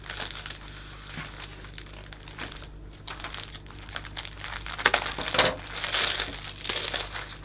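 Excess cellophane wrapped around a hand-tied Christmas flower bouquet is trimmed and crinkled: a steady, close crackling and rustling that swells into louder crunching bursts, with no talk.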